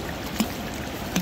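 Two distinct drips land a moment apart over a steady background wash of running water, dripping near a large rock.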